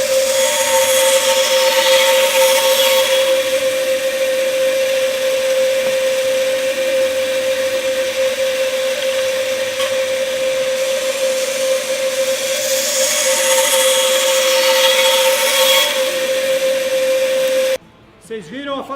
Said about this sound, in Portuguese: uma serrinha dessa que é considerada uma serra portátil